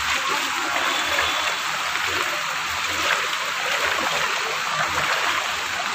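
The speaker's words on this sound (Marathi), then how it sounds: "मुसळधार पावसामुळे पूर्ण पाणीच पाणी आलेले आहे." Floodwater from heavy rain covers a village settlement, producing a loud, steady rushing and splashing flow that continues without pause, close by.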